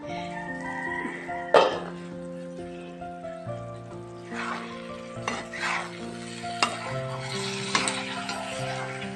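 Pepper chicken roast sizzles steadily in a pan while a spoon stirs and scrapes, with occasional sharp clanks of metal against the pan over a continuous frying hiss.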